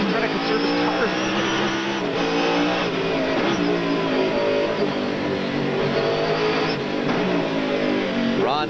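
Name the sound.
Trans Am race cars racing, including Ron Fellows' Roush Mustang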